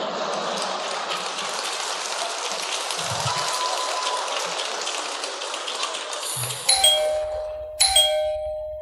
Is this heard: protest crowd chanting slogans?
no